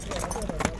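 Horse hooves clip-clop at a horse market in Bishkek, a faint, uneven stepping heard beneath steady nearby talking.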